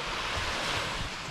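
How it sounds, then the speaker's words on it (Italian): Steady wash of autumn sea surf on the Maremma coast, Italy, with a low rumble beneath, continuous and fairly soft, with some wind noise blowing across the microphone. "si sente già il rumore del mare."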